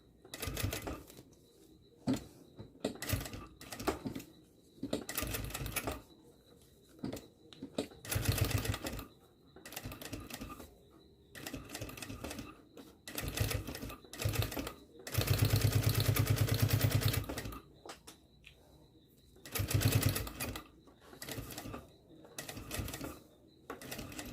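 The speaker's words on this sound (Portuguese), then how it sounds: "a gente faz a costura do vivo" Sewing machine stitching piping onto a school pencil case, heard as intermittent short bursts with one sustained run midway, mixed with clattering handling sounds close by.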